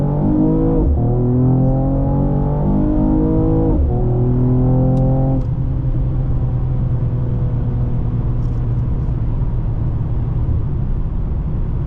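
A 2020 Mercedes-Benz E53 AMG accelerates hard from inside the cabin, its engine note climbing through quick rising sweeps with brief shift breaks, then settling into a strong sustained drone, loud and close with no talking.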